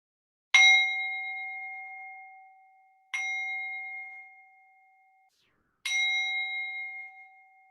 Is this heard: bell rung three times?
yes